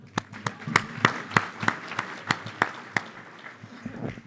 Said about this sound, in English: I'd like to start off by clapping it up for Khilla one more time.